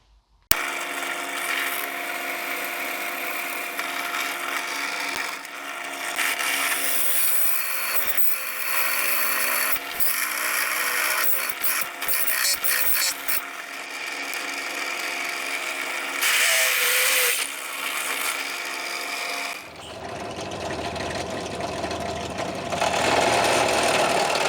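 A hand drill bores into the steel frame of a Camaro during a frame and front-end weld repair, giving a loud, steady grinding whine that runs nearly unbroken and shifts to a harsher, brighter tone near the end.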